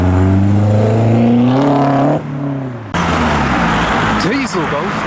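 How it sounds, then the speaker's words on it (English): A diesel Volkswagen Golf drives into a tuner car meet, its engine droning nearby with rising pitch as it pulls through, then fading into a busier mix of motor noise and voices. "Diesel Golf"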